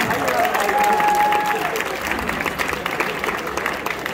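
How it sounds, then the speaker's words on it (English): Audience at a university comedy hypnosis show applauding the participants, a loud burst of clapping with a whistle early on, continuing steadily and easing slightly toward the end. "Big round of applause for the stars of the show"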